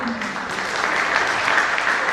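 An audience at a theatre performance breaks into sustained applause for the troupe, a dense steady clapping from a full room that carries loudly through the whole stretch, with a brief voice at the start.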